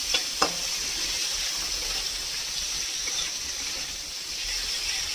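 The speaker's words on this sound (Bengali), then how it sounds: "চিংড়ি মাছ বেশি ভাজতে হয় না, তো বেশি ভাজবো না, একটু সাঁতলে নেবো জাস্ট" Prawns with slit green chilies sautéing briefly in a pan, a steady hissing sizzle up close with a couple of sharp utensil taps near the start.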